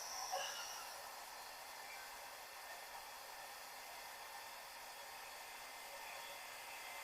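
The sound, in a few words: hair dryer on low drying paint on canvas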